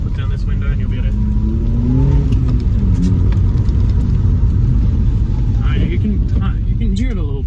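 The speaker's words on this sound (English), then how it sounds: "I will put the rear windows down just so you can hear a bit more of that exhaust" Exhaust of a 2016 Volkswagen Polo GTI (6C) with a resonator delete, heard from inside the moving car with rear windows down: a steady loud engine rumble with a rising rev, under someone talking.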